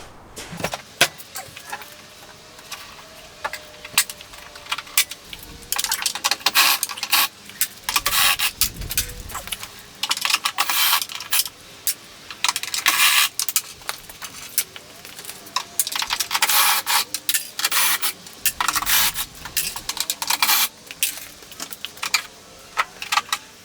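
Tape is pulled, rubbed and pressed onto a typewriter in dense, scratchy bursts of sticky crackle and rubbing, close by and busy for most of the stretch.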